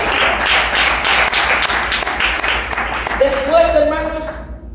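Church congregation, at a children's service, claps in a brisk uneven burst for about three seconds before it fades into talking and a sung or sustained voice.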